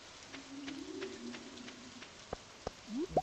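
Rain patters softly and steadily in the farming game Stardew Valley, a faint continuous hiss joined by a few short game sound effects and a cooing bird-like call near the end.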